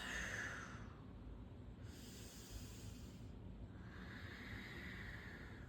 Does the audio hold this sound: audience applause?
no